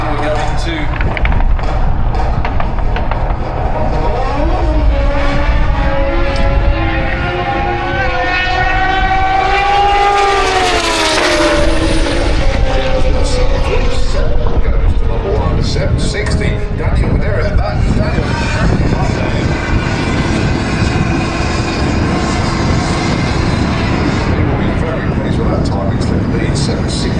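Junior drag bike racing down the drag strip at the Santa Pod Festival of Power, a loud close engine roar whose pitch climbs and then drops as it passes, with the crowd and announcer talking underneath.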